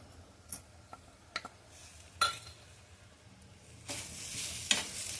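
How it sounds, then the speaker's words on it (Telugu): Eggplant fry is stirred in a pan with a spatula, giving scattered clinks and scrapes against the metal over a faint sizzle, ending in a louder burst of frying hiss; close and fairly quiet. "ఒకసారి కలుపుకొని స్టవ్ ఆపేసుకోవాలండి"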